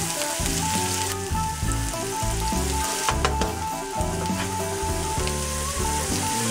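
Mixed vegetables and onions for upma fry in a hot pan with a loud, close, continuous sizzle and crackle, along with the occasional clink of a utensil and no talk.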